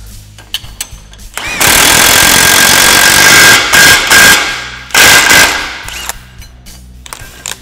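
A pneumatic impact wrench drives a Polaris wheel bearing removal tool on an ATV hub, firing in several loud, rattling bursts close by, separated by brief pauses and clicks.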